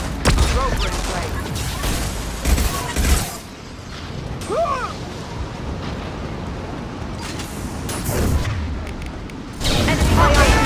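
Gunfire and explosions in a Mass Effect 2 firefight, with bursts of shots and booming blasts running loud and steady throughout and voices now and then over the din.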